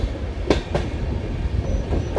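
A train running from Visakhapatnam to Araku leans through a sharp curve, its steady rolling rumble broken by two short bright wheel squeals early on and a faint whine later, with no talk.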